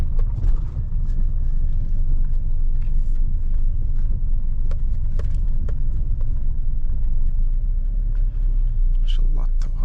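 A car drives along, its engine and road noise forming a loud, steady, close rumble with faint clicks over it for the whole stretch.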